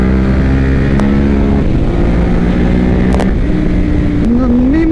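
A Ducati Monster 821 Testastretta engine revs up close and loud in small steps at low rpm, its pitch climbing near the end, with a few sharp clicks over the rumble.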